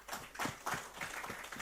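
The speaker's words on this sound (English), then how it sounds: "A huge round of applause for Sir" Scattered, fairly faint clapping from a small audience at an industry panel event on chemicals and petrochemicals in Gujarat, a short burst of uneven handclaps with no voices over it.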